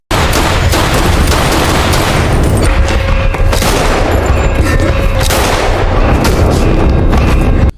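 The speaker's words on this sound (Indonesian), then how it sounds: "mengenai tangki bahan bakar dan meledakkan tempat itu" A stray gunshot strikes a fuel tank in an action film, setting off a loud, sustained roar of explosions and booming blasts that rolls on for several seconds at full intensity before cutting off abruptly.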